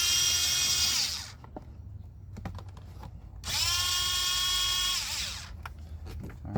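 A power tool loosening two 10 millimeter bolts on a 2003 Toyota Avalon 3.0 L V6: two loud, close whirring bursts of about a second and a half each, separated by quiet clicks and tool handling, no talk.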